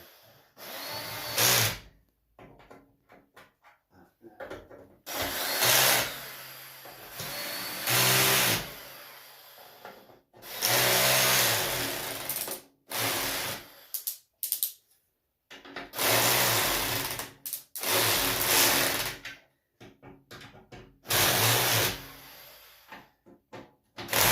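A power driver runs screws into a metal plate for a wood stove in repeated bursts of high whirring a second or two long, separated by short pauses, close and loud.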